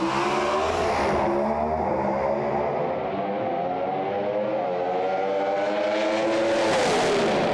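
A Pontiac pro stock drag race car roars down the strip in a loud, sustained engine howl with rising and shifting pitch as it accelerates, steady and dominant throughout.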